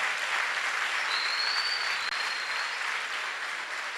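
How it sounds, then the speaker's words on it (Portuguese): A church congregation at a leadership seminar opening applauds in a steady, dense wash of clapping that holds evenly throughout. "Vamos aplaudir ao Senhor"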